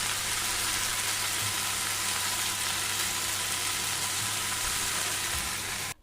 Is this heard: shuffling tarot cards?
no